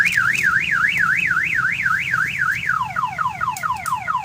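An aftermarket alarm on a Mitsubishi Montero blares loud and close. It begins with a rapid rising-and-falling warble, then switches to a faster string of sweeping down-chirps, with no voices over it.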